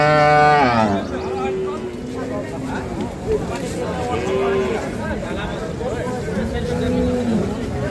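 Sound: dairy cow mooing at cattle market

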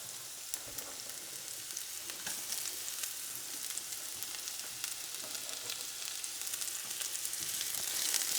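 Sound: onion frying in a pan

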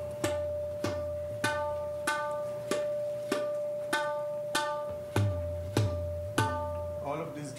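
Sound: drum cycle played in medium tempo

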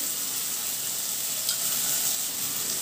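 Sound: tamarind juice poured into a sizzling pan

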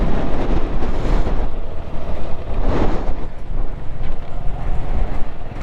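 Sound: strong wind

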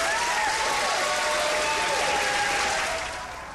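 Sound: scientists cheering and applauding with champagne bottles

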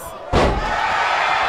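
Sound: wrestler body slam in WWE 2K video game

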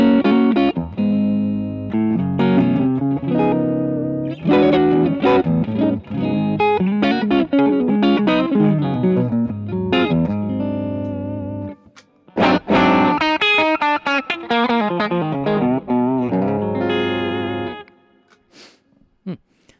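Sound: electric guitar through Boss GT-1000 box clean patch

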